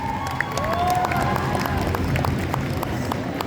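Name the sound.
audience applauding a cosplay performance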